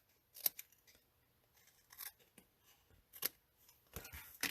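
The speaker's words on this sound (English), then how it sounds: "now we're going to press those into place and then we're just going to snip off the excess here" Scissors snip excess paper from a handmade greeting card: several short, crisp cuts spaced by pauses, fairly quiet and close, with no talking.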